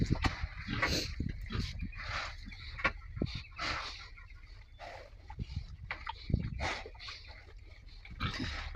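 Pigs in a muddy outdoor pen grunt and snuffle repeatedly up close, irregular rough snorts overlapping with shuffling and rustling noises throughout.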